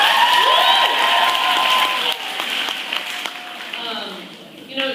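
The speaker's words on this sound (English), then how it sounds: "Big round of applause." Audience at a Girls State gathering claps and cheers loudly, the applause gradually thinning out, with voices and shouts mixed into the crowd noise.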